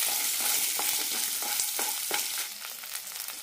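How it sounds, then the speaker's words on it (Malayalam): Coconut pieces and shallots sautéing in a pan, a close, steady sizzle of frying with several soft stirring scrapes, no voices. "നന്നായി വഴറ്റാം."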